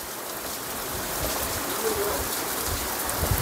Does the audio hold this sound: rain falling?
yes